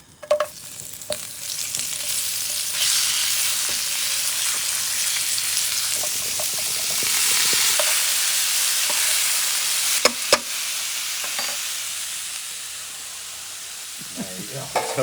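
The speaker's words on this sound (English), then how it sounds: "we're going to put a little bit of curry powder in with the oil" Curry powder sizzles hard in hot oil, a loud continuous hiss that swells and eases over several seconds, broken by a few sharp clinks of a utensil against the pot, with no voices.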